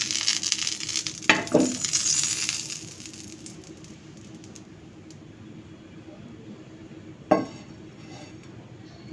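Peanuts frying in ghee give off a soft, steady sizzle, broken by a couple of sharp scrapes and clinks of a spoon against the pan, close by, with no talking.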